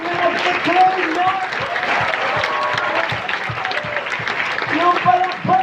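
Applause from a crowd at a youth worship gathering, continuous clapping mixed with cheering voices and some talk, moderately loud and sustained throughout.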